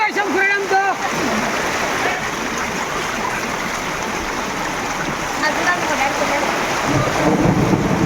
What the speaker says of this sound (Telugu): భారీ వర్షం కురడంతో